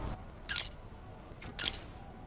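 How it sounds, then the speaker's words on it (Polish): Two quick smartphone camera shutter clicks in the video game inFamous Second Son, a single snap followed about a second later by a doubled click, crisp and close over a quiet low background hum. "cyknij kilka fotek na miejscu zbrodni i prześlij je do mnie"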